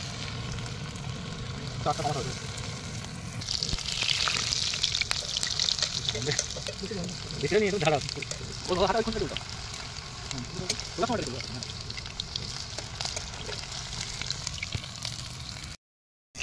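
Chicken pakoras frying in hot oil beside the Ganges, giving a steady broadband sizzle with bursts of bubbling and a few louder crackles throughout, with people talking in the background.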